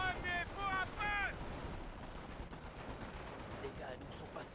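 Bursts of gunfire from infantry in a Company of Heroes battle in Normandy, with dense crackling shots and rumbling explosions running throughout, loud and busy. Harmonic tones, like a voice or radio call, sound near the start.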